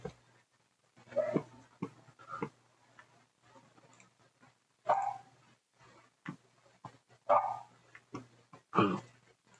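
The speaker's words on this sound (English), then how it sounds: "my dog's just barking" A dog barks in several short bursts spread across the stretch, separated by quieter gaps with faint background sound.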